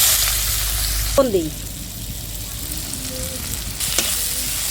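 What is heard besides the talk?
onion frying in a pan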